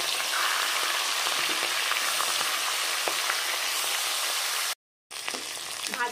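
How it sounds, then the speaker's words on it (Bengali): A hilsa fish head coated in salt and turmeric sizzles steadily in hot mustard oil, a dense, even crackle that cuts out briefly near the end and then resumes. "দিয়ে দেব সর্ষের তেল, লবণ হলুদ মেখে নিয়েছি, এবার আমি ভেজে নেব"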